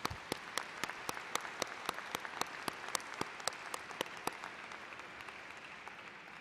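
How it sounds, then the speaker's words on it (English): Applause for veterans and members of the armed forces at a community college spring commencement ceremony, a steady crowd clapping with sharp individual claps standing out, sustained throughout and slightly thinning toward the end. "Let's give them a round of applause."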